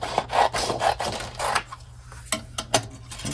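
A manila file folder is cut down to size with a run of close, rasping scissor snips in an uneven rhythm, some louder and sharper than others.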